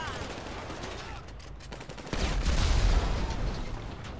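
Dense, rapid bursts of gunfire in GTA 5 Online crackle continuously, growing heavier and louder halfway through, with no talking.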